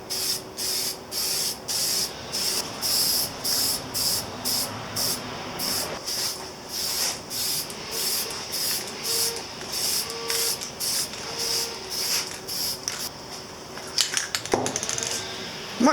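Spray can laying a light coat of paint on a Yamaha Virago XV250 chain guard, a run of short hissing bursts with brief pauses between them, close and steady, no talk.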